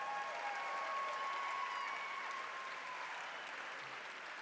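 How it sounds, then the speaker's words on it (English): Faint, distant applause from an audience at a FIRST robotics gala, a steady wash of clapping that tapers slightly toward the end. "can I please give a round of applause for all the people ahead of me"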